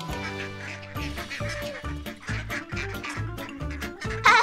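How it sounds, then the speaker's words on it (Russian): Ducks on a farm quack loudly and close while being fed seeds, a run of about eight to ten rapid, evenly spaced nasal calls with a sharper burst at the end. "Уток кормят семенами."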